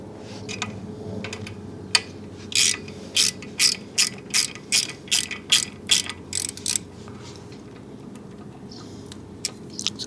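A ratcheting tool with a Torx bit loosening the stock 30 mm screw that holds the side stand switch on a BMW 1250 GS Adventure motorcycle: a steady run of about a dozen sharp, close ratchet clicks, then a few scattered ones.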